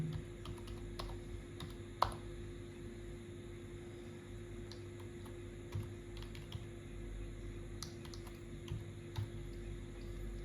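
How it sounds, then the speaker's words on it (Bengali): Keys on a computer keyboard clatter as a password is typed, sparse quiet clicks in irregular bursts over a steady electrical hum and faint room noise, with no speech. "তো আমি আমার মতো পাসওয়ার্ড দিয়ে দিচ্ছি"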